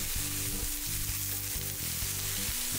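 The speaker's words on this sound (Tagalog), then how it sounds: "Wala talagang definite time sa pag-sear ng liempo dahil depende ito sa dami ng oil na marirender natin galing sa taba nito." Pork belly (liempo) searing in its own rendered oil, giving a dense, constant close-up sizzle with faint rhythmic low clatter underneath and no voices.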